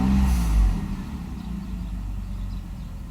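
A Mercedes 600SL V12 engine revs sharply then drops back toward idle, a loud close burst followed by a steady lower rumble, no voices.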